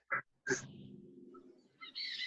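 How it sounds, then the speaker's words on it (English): A few short bird calls, clear and separate, with a sustained tonal call in the middle and brighter chirps at the end. "I don't know who has the birds."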